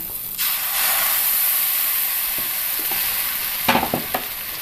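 Palappam batter hits a hot appam pan on low heat with a loud, continuous sizzle and hiss, followed by a few light clinks near the end.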